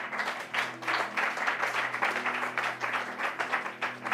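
A church congregation claps together in a dense, even patter of applause that goes on for several seconds at moderate volume. A faint organ-like hum sits underneath.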